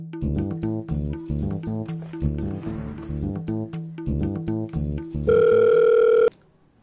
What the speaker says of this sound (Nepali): हेर्नुहोस् फोन उठाउन नि यत्रो समय लाउँछ